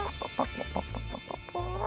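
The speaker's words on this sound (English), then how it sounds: "There's Jan's chooks." Backyard chooks in an Australian share house give a quick series of soft, close clucks and short throaty calls, separated by brief pauses, ending in a longer drawn-out squawk.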